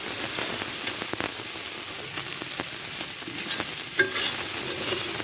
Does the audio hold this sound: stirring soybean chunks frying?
yes